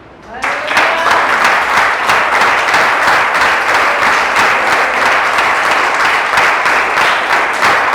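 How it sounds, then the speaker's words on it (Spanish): A church congregation breaks into sustained applause, loud and dense clapping that starts abruptly and holds steady for several seconds, filling the room. "Den un aplauso a Jesús."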